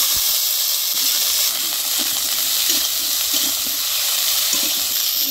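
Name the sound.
eggplant frying in oil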